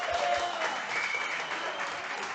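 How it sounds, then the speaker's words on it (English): A crowd at a downtown Royal Oak evening event applauds and cheers in a steady, dense wash of clapping that holds at moderate distance without a break, with no talk over it. "Let's hear a big crowd."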